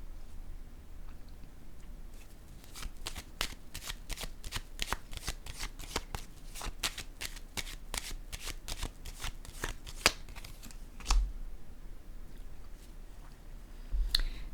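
Playing cards are shuffled and handled in a rapid run of crisp, close snaps and flicks, followed by a few single cards laid down on a table, with no talking.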